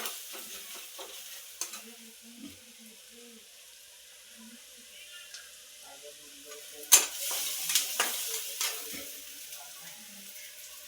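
Onions fry in hot oil for a tempering over low gas, a soft steady sizzle with spoon stirring and clinks that grow busier and louder in the second half, close and without speech.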